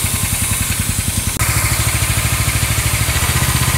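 A snow-making machine's engine runs at speed, a loud, rapid, evenly pulsing mechanical chug close by, with a brief sharp click partway through and the rhythm continuing unbroken.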